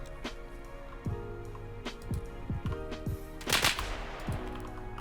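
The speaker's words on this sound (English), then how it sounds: "He's shooting at me." Gunfire in the Escape from Tarkov video game, with several sharp shots spaced irregularly across a few seconds, some cracking loudly and others more distant, over low ambient game noise.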